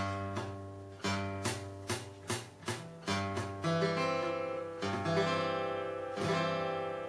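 Guitar chords strummed repeatedly in a steady rhythm, each strum ringing briefly, with one string sounding slightly dampened; no voices.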